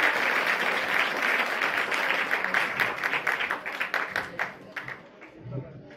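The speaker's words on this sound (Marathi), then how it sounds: "तुमच्या सगळ्यांसाठी एक जोरदार टाळ्या आपण वाजवायचे." A seated student audience at a founder's day function gives loud, sustained applause that breaks into scattered individual claps before dying out, with a voice heard briefly near the end.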